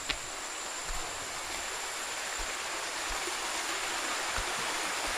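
Water rushes steadily at the source of a barangay water system, a constant close hiss with a few faint knocks.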